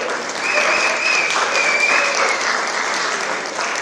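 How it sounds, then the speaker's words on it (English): Audience applause fills a show at Piper's Opera House in Virginia City, Nevada: steady, dense clapping from a crowd that holds at an even level for the whole stretch, with no talk over it. "Let's give a big round of applause"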